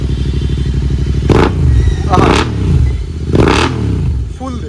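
A Royal Enfield GT 650 motorcycle fitted with a Red Rooster exhaust, dB killer removed, revs loudly three times in quick bursts over a steady idle, close to the microphone.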